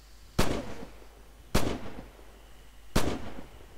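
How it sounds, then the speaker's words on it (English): Three evenly spaced rifle gunshots ring out in Red Orchestra 2, each a sharp loud crack with a short decaying echo, separated by about a second of quiet background. "Hear shots."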